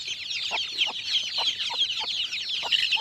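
A mother hen clucks in a steady series of short, soft notes, about two per second, against a busy background of her chirping chicks.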